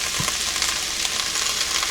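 Chicken and shrimp stir fry with vegetables crackles and hisses in a hot pan as a bottle of stir fry sauce goes in, a steady close sizzle with a faint low knock early on.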